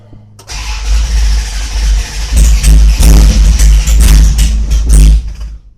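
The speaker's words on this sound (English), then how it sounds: "let's go ahead and hear some exhaust noise now" A 1969 Super Stock Dodge Dart race engine cranks and fires, then barks through repeated loud, sharp revs with a raw, crackling exhaust note, very close.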